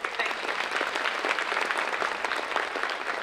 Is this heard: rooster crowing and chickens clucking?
no